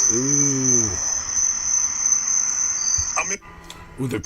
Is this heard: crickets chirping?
yes